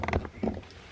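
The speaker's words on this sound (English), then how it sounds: "This is my swivel seat, my passenger seat swivels." A swiveling passenger seat inside a camper van turns with a short, low mechanical creak and clunk, then a second, softer grind. The sounds are brief and close, with no talking.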